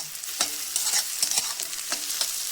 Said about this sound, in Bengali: আস্তে আস্তে মিডিয়াম লো জালে একটু পেঁয়াজগুলো লাল লাল করে ভেজে তুলে নেব।